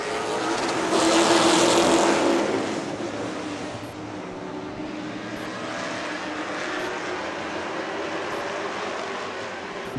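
Pro stock race cars roar around a track, a dense engine drone swelling as the field passes close, then settling into a steady distant rumble of racing, with no commentary heard.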